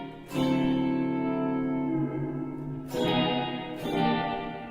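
Sustained electric guitar chords through a Strymon blueSky reverb with long decay time wash out into a long, spacious reverb tail, with new strums blooming into the lingering echo.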